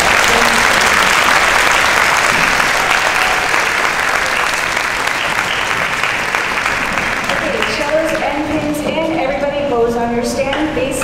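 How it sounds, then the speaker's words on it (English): An audience applauds at a fifth-grade school band and orchestra concert, a loud, sustained clapping from a full room that fades slightly toward the end as musical tones start to come through. "One more round of applause."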